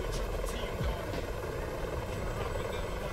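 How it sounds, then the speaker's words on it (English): A Hind helicopter in the Enigma Cold War video game, a steady loud rotor drone and engine buzz filling the whole moment, with faint game noise around it. "It's an MI8. No, it's a Hind."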